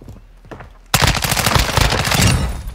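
Dense automatic rifle fire from a Honey Badger in Call of Duty MW2 erupts after a brief quieter moment, rapid loud bursts continuing steadily with no talking over them.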